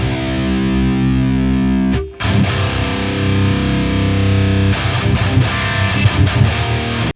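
Electric guitar played through an impulse response in a small clinic rig, heavily distorted sustained chords ringing loud and close, cut briefly, then chugging rhythmic strums with no talk.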